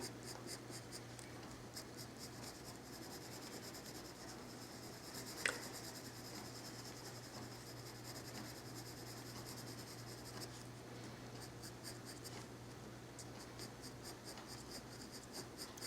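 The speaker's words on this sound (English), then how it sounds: "you also want your pencil strokes to follow the direction in which the feathers grow" Colored pencil scratches across paper in short, steady strokes while bird feathers are drawn, a faint continuous rubbing with one brief louder tick partway through.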